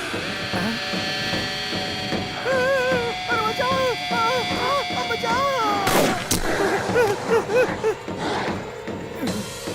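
Gunshots ring out during shooting practice in a Hindi-dubbed South Indian action film, with a loud sharp bang near the middle amid tonal, music-like sounds and voices talking throughout.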